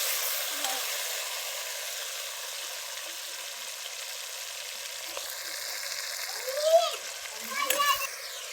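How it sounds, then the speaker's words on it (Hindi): Onion, tomato and green chili fry in a pan with a soft, steady sizzle and hiss throughout. A brief voice and faint stirring sounds come near the end. "टमाटर हरी मिर्चें शामिल करेंगे। 2 मिनट तक अच्छे से फ्राई करेंगे।"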